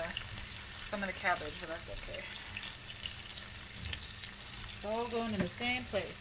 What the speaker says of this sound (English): I want to go ahead and fry the onions first